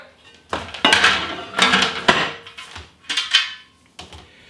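Several clattering metal knocks and scrapes as a grill pan is set down and slid into place inside an air fryer, close and fairly loud, with no talk.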